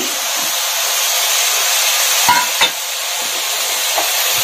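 Radish curry with chopped tomato being sautéed in a pan, giving a steady broadband sizzle with a couple of brief clinks of a spoon against the pan, no talking.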